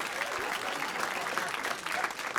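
A comedy club audience applauds at a stand-up show, a dense, steady clatter of clapping hands that lasts throughout, with a faint murmur of crowd noise beneath.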